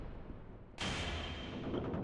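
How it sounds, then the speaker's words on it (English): Fireworks bursting in The Great Ace Attorney Resolve, a sudden loud broadband boom that cuts in partway through and rumbles on as a sustained crackling roar. "Fireworks!"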